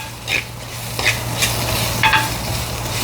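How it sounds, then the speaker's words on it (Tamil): Ingredients for crab rasam are sautéed in a clay pot, giving a soft sizzle with a few short scraping strokes of a spoon over a low hum. "சூப்பராக வதங்கி கொண்டு வருது."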